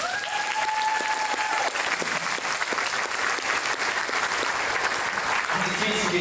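Loud, sustained applause from a dinner crowd honoring award winners at an East Alabama Chamber of Commerce annual dinner, dense clapping filling the room with some voices and a tone briefly mixed in.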